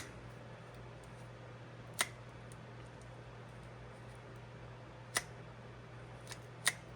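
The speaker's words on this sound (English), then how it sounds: "And it's clicking and it's stopping and clicking." A Shimano Sahara 1000 spinning reel being serviced clicks as it turns, giving three sharp isolated ticks spaced a few seconds apart over a faint steady hum.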